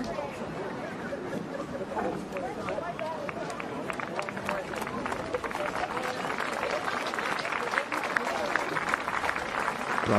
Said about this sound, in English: gets a good ovation here